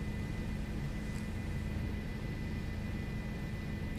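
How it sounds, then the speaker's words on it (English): Police helicopter flying overhead during a chase after ATVs and dirt bikes, heard as a continuous distant engine rumble with a steady tonal hum. "the chopper."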